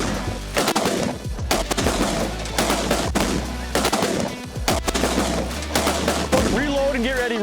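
Shotgun blasts ring out repeatedly at landing snow geese during a hunt in Saskatchewan, Canada, loud and close in an irregular volley, with shouting hunters and goose calls mixed in.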